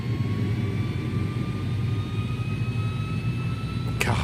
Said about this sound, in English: Freaking engine sounds, man.